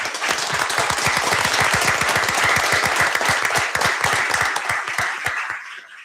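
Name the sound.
applause at a city council meeting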